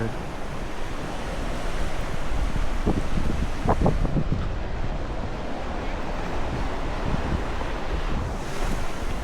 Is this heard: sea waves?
yes